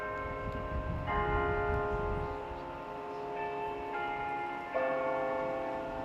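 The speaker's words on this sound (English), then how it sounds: "The chiming of the bells" A university chapel's bells chime three times for an anniversary remembrance, each strike ringing out in rich sustained tones that overlap and linger, clear and alone.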